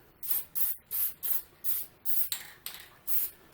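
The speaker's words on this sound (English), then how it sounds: "with the clear lacquer you can get closer. You can spray directly on and not overdo it" A spray can sprays clear lacquer onto 3D-printed knobs in short, repeated hissing bursts, about eight close, even blasts separated by brief pauses.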